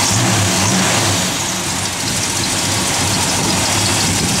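Steady engine roar from a 1970 Dodge Coronet R/T as it drives along, loud and continuous with broadband road and wind noise, briefly dipping before holding on.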